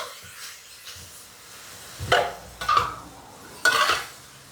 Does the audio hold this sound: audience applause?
no